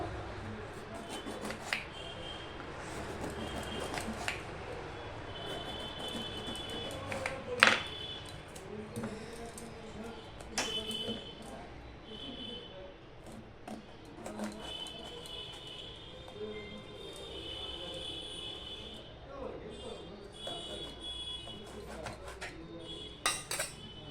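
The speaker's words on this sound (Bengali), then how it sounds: "বেগুনটাও আমি ছোটো ছোটো করে কেটে নেবো" A knife chops an eggplant into small pieces for a home-cooked methi sag dish, with irregular close taps, scrapes and the light clatter of utensils and pans throughout.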